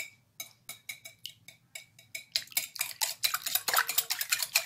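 Eggs whisked in a bowl for a coconut cake: rapid rhythmic clinks of the whisk against the bowl, sparse at first, then speeding into a dense, loud, continuous rattle, close up.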